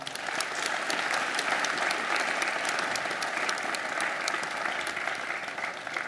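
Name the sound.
applause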